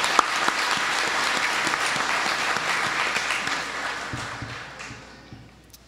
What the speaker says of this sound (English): please provide a round of applause for Sonia.